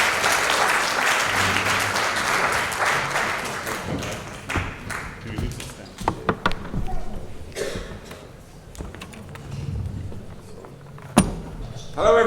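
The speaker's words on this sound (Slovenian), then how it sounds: "dajmo danes en aplavz Ečke Druge" Crowd applause at a Christian mission gathering in Prevalje, Slovenia: loud, dense clapping from a large audience that thins after about four seconds into scattered claps, knocks and thuds, then swells briefly again at the end.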